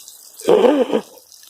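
Rainwater from overflowing garden water butts lands in one close, distinct watery plop and splash lasting about half a second, with quiet surroundings before and after.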